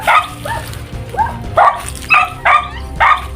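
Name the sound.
dog barking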